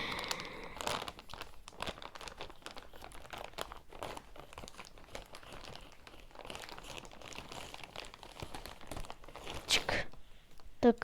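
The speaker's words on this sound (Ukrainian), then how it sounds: "Здається, він нормально не відкривається. Так що будемо його різати." Plastic bag of Technic Porsche 911 construction set parts being cut open, a run of dense crinkling and rustling handling noises with a few sharper snips near the end.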